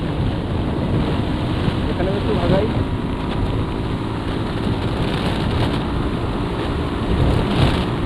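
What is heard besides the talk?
headwind while riding a motorcycle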